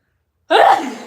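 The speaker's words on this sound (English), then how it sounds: "I'm gonna sneeze" A single loud, close sneeze bursting out after a moment of silence, trailing off with a breathy release.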